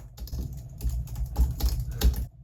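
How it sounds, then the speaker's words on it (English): Rapid, irregular clacking of keys being hammered on a solid-feeling keyboard, close and fairly loud, with heavier thumps among the lighter taps. "There's a slightly different sound as you're hammering away with your keys"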